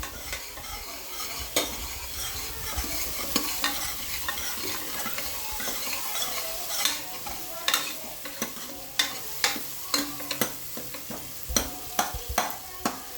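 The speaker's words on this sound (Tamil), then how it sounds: "வெங்காயம், தக்காளி நல்லா வதங்கணும்." Onions and tomatoes for a mutton kuzhambu are stirred and sautéed in a pan. A constant sizzle runs beneath, and the spoon scrapes and clicks against the pan more rhythmically toward the end.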